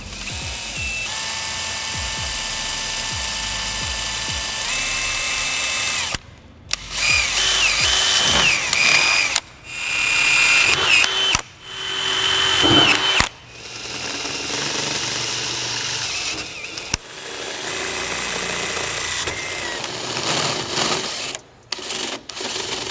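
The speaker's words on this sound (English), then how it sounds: "We're gonna use a 1/8 drill bit first, and then I'll use a step bit to get it to 3/8" A power drill with a 1/8 inch bit bores holes into a car trunk for a rear wing install. Several loud whining bursts of different lengths are separated by short pauses, with no talk.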